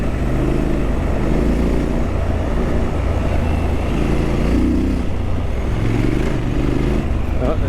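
A 2022 Triumph Scrambler 1200 XE rides along a gravel street, its engine droning loud and steady with rising and falling revs as traction control cuts in, tyre and road rumble filling the background.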